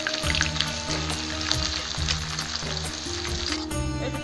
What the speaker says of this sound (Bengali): আমি পেঁয়াজটা ভালো করে লাল লাল করে ভেজে নেব।